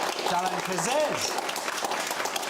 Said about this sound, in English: a big round of applause, please, ladies and gentlemen, for our author, Pierre.